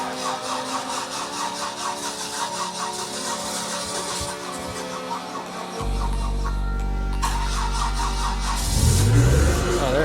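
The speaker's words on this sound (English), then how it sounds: "It didn't go the first crank. It was making some weird noises, but on the second one, here we go." A car engine cranks over in freezing cold weather, stumbling with rough, uneven noises before catching and settling into a loud, steady idle close by.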